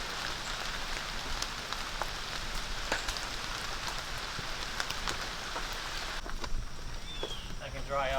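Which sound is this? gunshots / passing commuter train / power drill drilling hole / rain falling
rain falling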